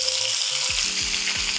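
String beans frying in hot bacon fat, a steady bright sizzle throughout with a few low knocks and a faint musical tone running underneath.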